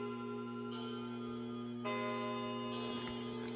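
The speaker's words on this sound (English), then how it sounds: "Sorry about my chiming clocks in the background." Several clocks tick steadily in a room lit by warming metal-halide and HID lamps, a constant close rhythmic ticking with a low electrical hum beneath it and a slight rise partway through; no one speaks.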